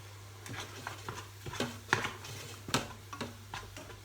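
A spoon scrapes and taps around a Pressure King Pro pot as salted bolognese is stirred, giving a series of light, irregular clinks and scrapes over a low steady hum, with no talking.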